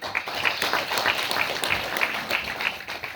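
Clapping from the audience at a business sharing seminar in Mira Bhayander comes in a rhythmic, fairly modest patter. It is steady and moderately close, with a murmur of voices underneath.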